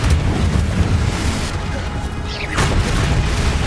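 A Confringo explosion spell from the Hogwarts Legacy video game bursts amid dense, loud battle noise, with a rumbling boom and a sweeping blast near the middle, continuous low rumble throughout.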